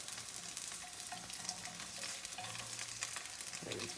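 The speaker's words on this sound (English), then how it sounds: "You can hear that sizzle." Kimbap filling ingredients sizzle and crackle steadily in a hot frying pan, close up, with faint scraping of stirring now and then.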